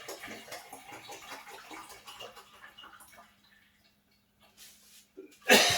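White vinegar poured into a batch of homemade hot sauce, with a soft liquid trickle that fades almost to silence before a loud, splashy gush near the end.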